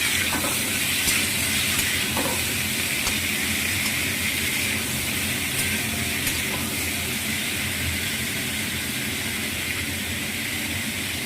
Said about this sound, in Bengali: এই যে ঢাকাটা খুলে এবার একটু নাড়াচাড়া করে নেব